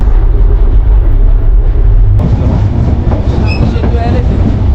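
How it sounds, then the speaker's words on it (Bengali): Banalata Express passenger train running on rails, heard from inside: a loud continuous rumble with rhythmic clickety-clack and faint squeals, the sound changing abruptly midway. "আমাদের বঙ্গবন্ধু এক্সপ্রেস ট্রেনটি যমুনা সেতুতে উঠবে"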